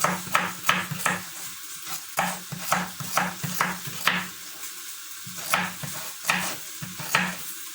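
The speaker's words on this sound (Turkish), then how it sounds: "Havuçtan da biraz doğrayalım." Rapid, rhythmic knife strikes chopping carrots on a cutting board, bursts of sharp taps in quick runs with brief pauses, close by and fairly loud.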